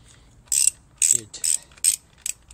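A ratchet loosens the cylinder head bolts on a 2005 Honda CRF450R in five or six short, close, crisp bursts of clicking separated by brief pauses.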